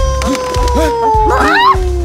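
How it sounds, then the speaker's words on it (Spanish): Cartoon wolf howl: a drawn-out, slowly falling wail sustained across a busy animated soundtrack with repeated low thumps and short chirping accents. "¡Eso se parece mucho al aullido de un lobo!"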